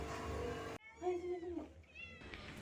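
A Persian cat lets out a single clear meow up close, preceded by a brief burst of broadband noise that cuts off abruptly, with quiet room tone around it.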